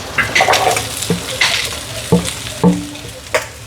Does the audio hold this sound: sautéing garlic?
yes